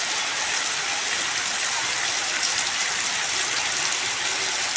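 Heavy rain pours down steadily on a farm just after groundnut sowing, a dense, even hiss of falling water with no break and no talk.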